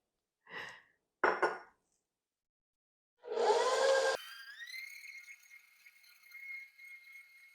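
A stand mixer creams butter and sugar for a blueberry lemon pound cake, starting after a few brief knocks and scrapes with a loud whirring burst that settles into a steady, moderate motor hum running to the end.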